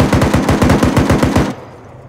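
Rapid machine gunfire in the military video game Arma 3, a steady burst of about a dozen evenly spaced loud shots that cuts off abruptly, leaving faint background noise.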